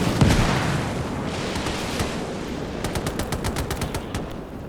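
Finnish Lahti machine guns firing in the Gates of Hell game at the Battle of Summa, with rapid bursts rattling from a moderate distance over low, rumbling battle noise and an early dull boom.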